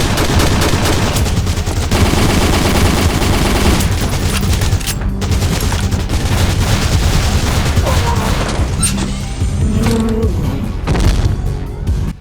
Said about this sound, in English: this is how fast it makes you fire. It's only really noticeable with the Glock